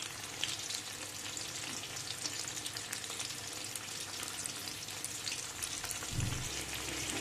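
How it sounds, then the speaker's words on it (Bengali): Soybean chunks fry in oil heated on high, giving a continuous faint crackling sizzle with a short low thud near the end. "এখন এর মধ্যে আমি সয়াবিনগুলো দিয়ে দেব। এই সয়াবিনগুলোকে ভালো করে ভেজে নেব।"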